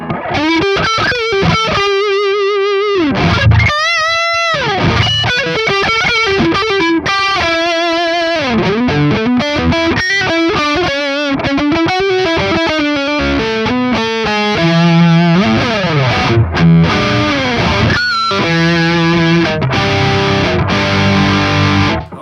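Electric guitar through a Harley Benton Vintage Overdrive pedal at low gain, mildly crunchy chords and single notes played continuously, close and fairly loud, with no voices.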